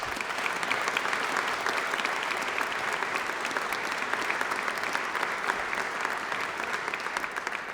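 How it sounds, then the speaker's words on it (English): A legislative chamber audience applauds at a state of the state address, with steady, dense clapping from a large crowd that fills the room without pause. "I'm glad we got the clapping out of the way."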